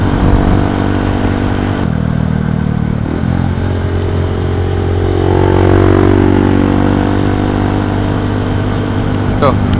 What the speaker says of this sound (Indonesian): enak banget naik motor kayak gini, santai gitu, standby lagi, kecepatannya stabil